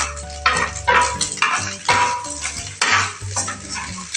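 Egg being stirred and fried in a pan over a medium gas flame for fried rice, with repeated scraping and clinking of a utensil against the pan over a soft sizzle, no talking.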